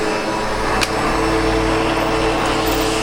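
A SEBO Automatic X7 Boost ePower upright vacuum cleaner runs continuously in a house, giving a loud, steady motor drone with a constant hum and no pauses, heard up close without voices.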